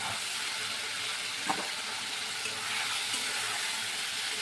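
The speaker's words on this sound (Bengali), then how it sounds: "এবার আমি এই আলু আর ওলটা আমি দিয়ে দেবো।" Potatoes and elephant foot yam tipped into hot oil with cooked-down spices, giving a steady, broad sizzle and frying hiss with a faint stir clatter partway through.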